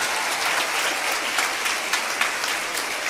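An audience at a comedy talk applauds with dense, steady clapping throughout, a continuous crowd of hands with no talk over it.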